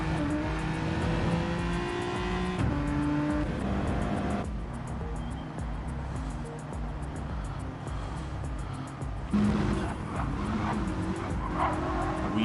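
Lancer race car in a WTCC round at the Red Bull Ring in a racing game, engine howling steadily on a fast lap with loud upshifts and pitch drops as it accelerates and brakes.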